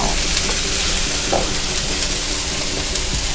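Cashew nuts being stir-fried in a pan give a steady, close, broadband sizzle and rustle throughout, with faint scraping of the stirring and no talk.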